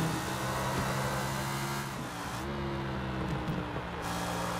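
A car in Sleeping Dogs accelerates with a steady, droning engine tone that shifts pitch as it revs, continuous and fairly close throughout.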